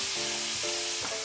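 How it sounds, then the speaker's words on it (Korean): Shrimp sizzle loudly in a pan with white wine, a steady close frying hiss with a few soft stirring scrapes over little more than a second. "새우를 노릇노릇 굽겠습니다"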